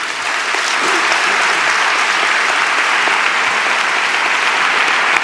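A large crowd applauds Pope Francis at the Semana Santa proclamation in Seville, 2014. Loud, dense, sustained clapping swells in and holds steady throughout, with no speech over it.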